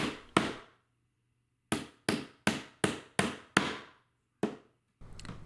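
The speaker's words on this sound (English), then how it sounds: "Next, I'm going to hammer the fasteners into piece H." A hammer drives metal drive fasteners into a wooden panel of a mixed-material four-drawer dresser, eight sharp close knocks in an irregular series, most coming in a quick run of evenly spaced blows.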